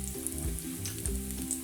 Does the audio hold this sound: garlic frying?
yes